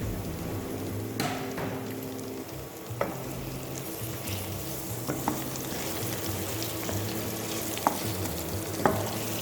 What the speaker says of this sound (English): We'll give a stir.